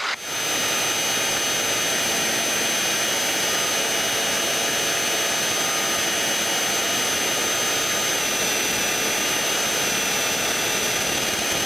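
The engine of a small aircraft called The Bee runs at the very end of the runway before takeoff, giving a loud, steady, unbroken drone with a constant whine throughout.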